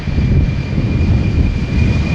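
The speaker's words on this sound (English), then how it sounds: "KLM Embraer 190 to Billand, dropping off wheels." A KLM Embraer 190 jet roars steadily on its takeoff run at Amsterdam Schiphol, a loud, close, broadband engine rush with a thin high whine riding over it.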